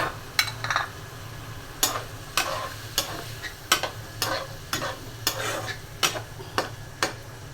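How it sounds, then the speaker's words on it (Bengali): Onion fritters and chickpeas fry in oil side by side in a home kitchen, a steady sizzle broken by sharp, regular scraping strokes of a spatula about every half second, close and fairly loud with no talk. "এক পাশে পেঁয়াজু ভাজা হচ্ছে, আরেক পাশে বুট।"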